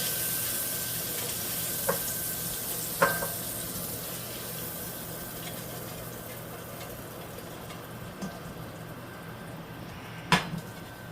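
Shrimp fry in a pan with a faint, steady sizzle lasting throughout. A few sharp clicks and clinks of kitchen utensils are heard close by, and no one speaks.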